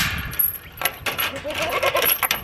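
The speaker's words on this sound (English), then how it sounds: "you're bleating all over me" Goats bleating at feeding time in a pen, with several wavering calls overlapping in the second half over steady rustling and handling noise, close by.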